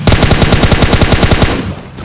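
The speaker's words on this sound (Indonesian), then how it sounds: "Gue kasih tembakan peringatan nih." A rapid burst of warning gunfire in PUBG Mobile, about a dozen loud shots in quick even succession, then cutting off into a fading tail.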